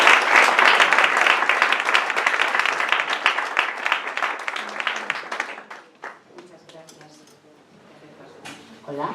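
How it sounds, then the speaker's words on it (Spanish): A small audience at a poetry book presentation applauds loudly, the clapping thinning out and fading into scattered claps before a person starts speaking. "Un aplauso para él"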